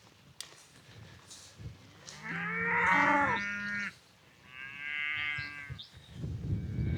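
Cattle moo as a herd gets ready to move to new pasture, one long close low moo followed by a second shorter call, with rustling movement around them outdoors.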